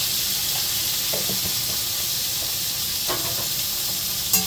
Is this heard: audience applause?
no